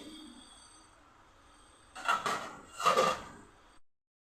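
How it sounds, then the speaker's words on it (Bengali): A lid is lifted off a cooking pot of fish head and Malabar spinach with mixed vegetables, heard as two brief metallic scraping clatters in quick succession over a quiet kitchen background. "ঢাকনাটা তুলে দিচ্ছি।"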